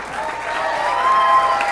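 Crowd applause at the 2002 U.S. Open 9-ball championship, a steady, fairly loud wash of clapping from an audience filling the venue, holding evenly throughout without talk.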